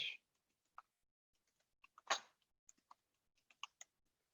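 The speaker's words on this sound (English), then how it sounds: "I'm just going to type in the chat." Someone types an email address on a computer keyboard, producing scattered, faint individual key clicks in an irregular rhythm with one louder clack partway through, in a quiet room.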